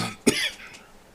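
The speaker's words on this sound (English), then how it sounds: "wish I could get rid of that cough completely" A single short, sharp cough bursts out close to the microphone, followed by a brief breathy tail, with no talk around it.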